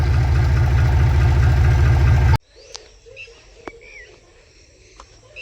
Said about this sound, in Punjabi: ਹੁਣ ਟਰੈਕਟਰ ਚੱਲਣ ਲੱਗਾ